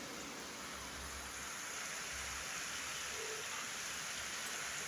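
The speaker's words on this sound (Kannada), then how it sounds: "ಮಳೆ ಹಂಗೆ ಬರಾಕ್ತದೆ ನೋಡಿ" Steady rain falls continuously on a farm field, a dense even hiss with a low rumble underneath and no voices.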